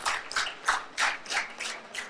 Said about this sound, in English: Clap for our Inspector General of Police.